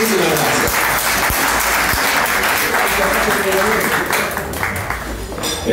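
Audience applause after a tango quartet and singer perform at a milonga, a loud, sustained wash of clapping from a crowded dance hall that dips slightly near the end, with a voice speaking faintly beneath.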